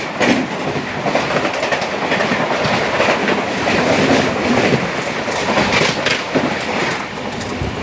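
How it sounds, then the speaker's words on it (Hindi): The NJP–Chennai Pinakini Superfast Express rushes past close by with loud continuous rail roar and rhythmic clickety-clack of wheels over joints, sustained at full volume the whole time with no talking. "ये थी पिनाकिनी सुपर फास्ट एक्सप्रेस।"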